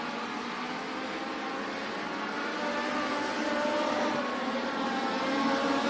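Dirt track race cars at Benton County Speedway roar together in a dense, steady drone heard from a distance, the engine noise slowly swelling as the pack circles.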